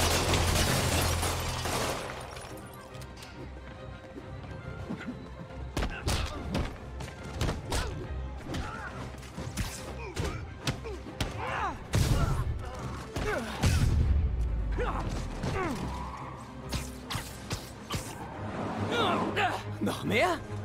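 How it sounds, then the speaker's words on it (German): Gunfire and heavy thuds ring out during a fight in Marvel's Spider-Man, a PlayStation video game, as shots and impacts come in irregular bursts under shouting voices. "Spider-Man, knallt ihn ab!"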